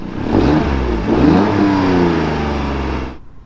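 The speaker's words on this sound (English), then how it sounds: "it does have a little bit of an exhaust leak" A nearby car engine revs up loudly and holds a rough, throaty roar with a ticking, puffing exhaust rasp, then cuts off abruptly.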